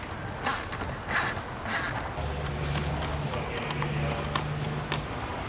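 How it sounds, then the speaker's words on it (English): A 10mm ratchet spanner tightens splitter bolts on a Hyundai i30 Sedan N, with three quick bursts of ratcheting clicks followed by a steady low mechanical hum, close and fairly loud with no talking. "Then take your 10mm ratchet spanner"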